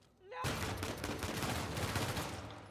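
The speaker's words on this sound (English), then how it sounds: "Sniper shot me" Gunfire in the video game Uncharted 4: A Thief's End, including sniper shots, a dense, sustained barrage of rapid overlapping shots that starts abruptly and stays loud throughout.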